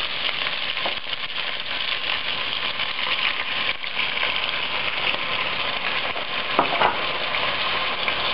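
Chicken pieces browning in a pan with fish sauce added, giving a steady, dense frying sizzle with occasional stirring scrapes throughout and no talking.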